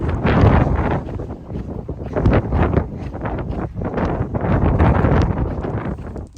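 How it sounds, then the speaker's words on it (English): Strong gusting wind buffets the microphone with a loud, continuous roar that swells and dips, with no voices. "it's really windy right now"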